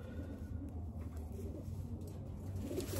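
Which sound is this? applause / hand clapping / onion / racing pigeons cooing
racing pigeons cooing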